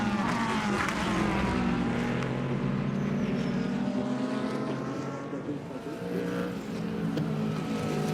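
Race cars at an IMSA race at the Brickyard, their engines roaring loud and continuous as they brake hard into turn 7. Engine pitch shifts as cars pass, with faint commentary underneath.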